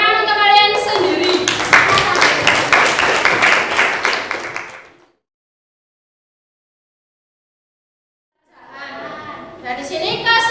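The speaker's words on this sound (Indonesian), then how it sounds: "Tepuk tangan untuk kalian sendiri." Students in a classroom clap for themselves in a loud, close burst mixed with children's voices. It cuts to silence midway, then the clapping and chatter resume.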